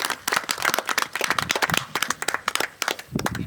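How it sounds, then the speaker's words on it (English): Outdoor crowd at a historic fort rifle demonstration breaks into applause, a dense run of uneven hand claps from a modest audience, steady and close throughout. "Round of applause for James and his rifle, please."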